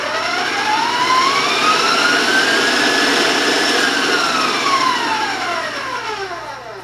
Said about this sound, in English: And we'll beat and cream that together.